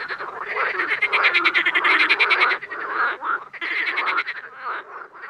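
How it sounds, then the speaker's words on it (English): A dense chorus of frogs from a mass frog invasion in Oconto, rapid rattling croaks pulsing in bursts with a brief lull midway, loud and close with no voices. "Only it isn't distant rifles making these sounds. It's 175 million frogs."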